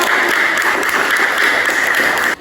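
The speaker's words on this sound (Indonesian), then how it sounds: "Tepuk tangan dulu untuk semua kelompok yang sudah sampai" Schoolchildren in a classroom applaud all the discussion groups together, with loud, continuous clapping from the whole class that stops abruptly at the end.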